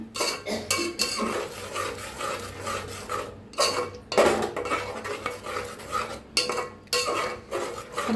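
A masala with curry leaves is stirred and roasted in oil for misal pav. A spoon scrapes the pan over and over at close range in an uneven rhythm, with only a slight sizzle underneath.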